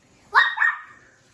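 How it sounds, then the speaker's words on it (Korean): A dog gives a quick double bark, sharp and fairly close, two short yaps in succession followed by quiet. "강아지"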